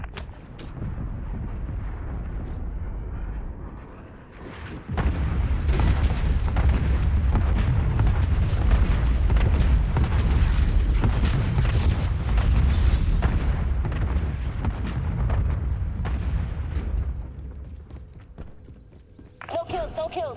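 Artillery strike in Call of Duty: Warzone, a barrage of heavy booming explosions rolling continuously for about twelve seconds, loud and overlapping, with gunfire and voices talking over it.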